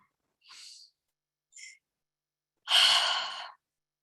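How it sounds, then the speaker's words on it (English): A person's slow, deep breath during a guided relaxation session: a soft inhale, a brief catch, then a long, full exhale close to the microphone in otherwise silent surroundings. "Deep breath."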